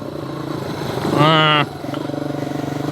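A Skybike Liger 2 country-cross motorcycle revs up in one short, loud rising burst over a steady engine drone, with talk running underneath.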